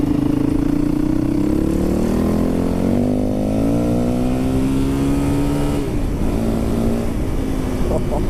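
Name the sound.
2003 Yamaha WR450F motorcycle engine while riding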